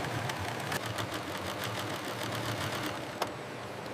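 An industrial sewing machine stitches synthetic fur on a factory floor with a rapid, even run of mechanical ticks and a brief louder clack near the end.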